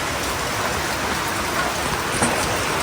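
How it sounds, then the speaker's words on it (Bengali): Steady light drizzle at night patters and hisses on surfaces nearby, an even continuous wash of drops with no voices. "আজকে মনে হয় বৃষ্টি সারা রাতই হবে টিপটিপানি এই বৃষ্টিটা আর কি"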